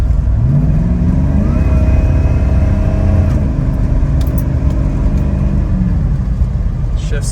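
Restored 1990 Chevrolet Suburban V1500 Silverado 4x4 accelerating on the road, a steady engine drone with rising and shifting tones through firm gear changes, heard from inside the cabin with a voice talking over it.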